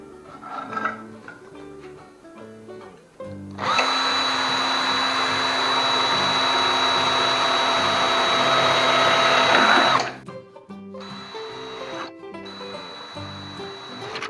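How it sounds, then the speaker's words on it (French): A drill bores through the bottom of a metal box for a homemade pyrolysis stove, giving a loud, steady whine for about six seconds, then a brief second burst after a pause, amid handling noise. "Ensuite, toujours sur la boîte numéro 2, je vais percer"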